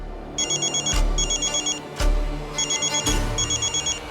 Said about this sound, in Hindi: उनका फोन आ रहा है